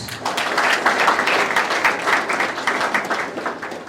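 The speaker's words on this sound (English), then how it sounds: "Let us give them all a warm round of applause." An audience at a stakeholders' opening day event in Mombasa gives a sustained round of applause, dense clapping that stays fairly loud and even throughout with no distinct voices above it.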